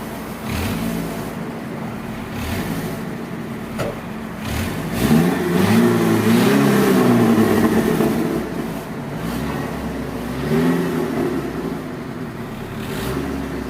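A Daewoo Nexia 2 car engine with an aftermarket muffler set to popping mode revs hard, rising and falling in pitch through a steady loud roar, with a brief stronger burst in the middle.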